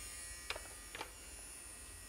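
A children's toy electric vacuum cleaner with suction and sound effects runs with a steady, even buzzing drone for the whole stretch, broken by a couple of brief clicks near the start.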